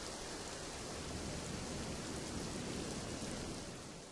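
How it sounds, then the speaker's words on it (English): Steady rain pours down in an even, dense hiss, filling the scene at moderate distance with no voices and a gentle fade at the end. "the clouds burst and the water falls back to earth as rain"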